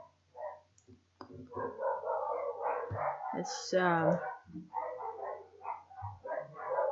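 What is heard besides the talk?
dogs barking outside a house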